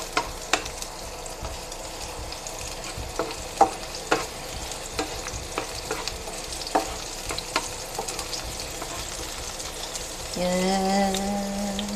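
Onions sauté in a pan for bihon sotanghon guisado, giving a steady close sizzle with scattered stirring clicks and scrapes, and a brief tonal sound near the end.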